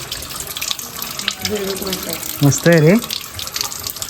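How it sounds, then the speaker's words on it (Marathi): Cold natural spring water at a Konkan temple site pours in a continuous splashing flow, close and loud, while someone speaks briefly over it. "झऱ्याचं पाणी थंड आहे बापा."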